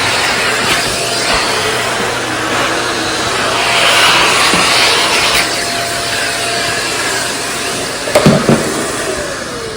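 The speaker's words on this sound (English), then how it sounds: "I want to vacuum all that gunk out first" A vacuum cleaner sucks packed gunk from the gaps in a wood floor, giving a steady close airy roar with shifting tone and a few brief louder clatters near the end.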